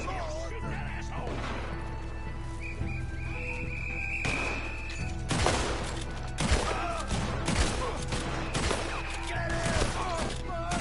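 Gunfire bursts in a Red Dead Redemption 2 shootout, sharp shots scattered over the second half amid horse whinnies, hoofbeats and crashing, with a steady low rumble and shouted voices throughout.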